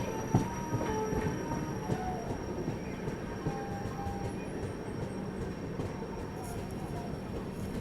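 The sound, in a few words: train arriving at Kacheguda station, Kongu Express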